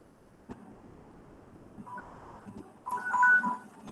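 A telephone rings for an incoming call with short electronic tones, a faint first burst followed by a louder, clearer ring near the end over a quiet room.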